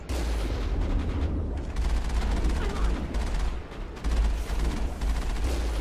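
Dense, continuous gunfire and explosive booms in the video game Mass Effect, loud and sustained with rapid overlapping shots and a heavy low rumble throughout.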